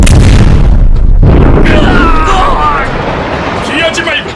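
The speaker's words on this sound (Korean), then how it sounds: "전자포 총통 발사!" A heavy boom from an electric chongtong cannon firing during a siege battle in a dubbed webtoon, a loud close blast that rumbles and decays over several seconds while voices shout.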